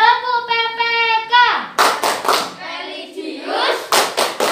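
Children chanting the PPK clap routine in an Indonesian classroom, a child's sung call followed by sharp bursts of group clapping in rhythm, with voices chanting between the claps.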